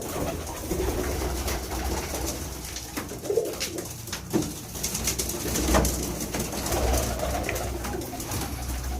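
Pigeons coo steadily in a loft housing adults and young squabs, several birds layering soft, low, rolling calls throughout at moderate distance, with scattered wing flutters and shuffling.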